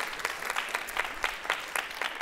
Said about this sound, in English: Give yourselves a round of applause for what you do to keep this place going.